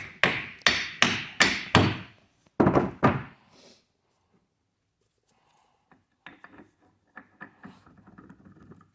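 Several sharp taps on a drive shaft center support bearing being seated on a 2005 Kia Sorento, a quick run of five hits followed by two more, then quieter shuffling of parts.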